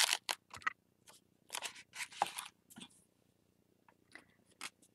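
Duramax tape is pulled and pressed onto mixed media art blocks in short bursts of sharp ripping and crackling, separated by quiet pauses, close and fairly soft.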